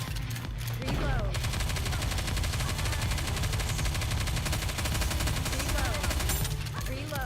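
Dense, continuous rapid gunfire from the shooter game Nikke fills the scene at close range, with steady automatic bursts throughout, brief gaps at the start and end, and voices calling out over the shooting.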